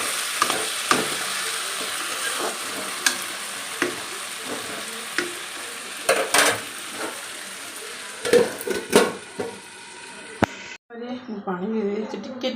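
Tomatoes simmering with water in a pan give a steady bubbling sizzle with scattered stirring scrapes. Speech runs over much of it, and the cooking noise drops away near the end.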